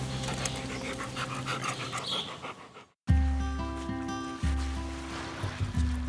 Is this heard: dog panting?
yes